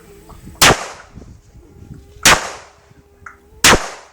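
Three sharp, loud shots ring out, gunfire or firecrackers, spaced about a second and a half apart over a low background murmur.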